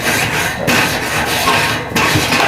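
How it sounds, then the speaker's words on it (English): A Grillaholic metal scraper is dragged across the grate of a Weber kettle grill in a steady, continuous rasping scrape, with brief breaks between strokes at close range and no talking. "This is my Grillaholic scraper."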